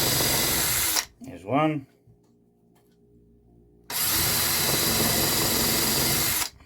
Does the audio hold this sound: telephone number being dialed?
no